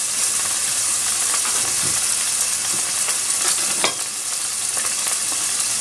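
Pieces of chicken sautéing in hot oil in a pan for homemade pollo al chilindrón, a steady close sizzle with occasional scrapes and stirs of a wooden spoon.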